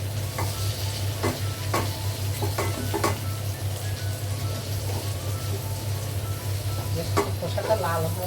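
Shrimp, shells still on, frying in a pan as a spatula stirs them: a steady sizzle over a low hum, with repeated scraping strokes coming close.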